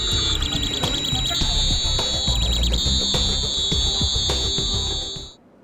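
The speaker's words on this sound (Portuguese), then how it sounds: "O alarme do aparelho soa." A gas detector's alarm shrills continuously and loudly in a condominium parking garage, a steady high-pitched electronic tone holding for several seconds with faint background noise beneath before cutting off abruptly.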